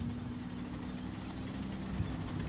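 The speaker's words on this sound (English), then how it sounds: "I don't know about the Bradley engine sound issue" Low steady engine drone of a Bradley armored vehicle in a military video game, a continuous idling rumble with a constant hum, no talk.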